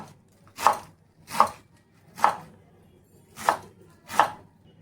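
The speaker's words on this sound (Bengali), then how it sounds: "তো এটা এইভাবে একটু ছোট ছোট টুকরো করে কেটে নেব।" A knife chopping fresh, tender spinach on a board, five evenly spaced crisp chops, close and distinct, with quiet gaps between cuts and no talking.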